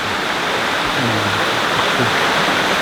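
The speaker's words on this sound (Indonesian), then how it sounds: "itu lanjutan sungai yang tadi itu dalam sekali" A deep river rushes past at night beside a residential complex in Bali, a loud, steady broadband roar of flowing water heard close and continuous, with no talk.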